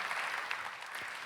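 An audience at a nursing conference claps together, a steady and fairly quiet wash of applause heard from a distance.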